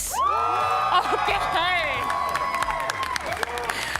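Esports crowd at a VCT EMEA 2026 Stage 1 finals between Team Heretics and Vitality cheers, whoops and applauds, a dense roar of shouts and whistles under a brief spoken word.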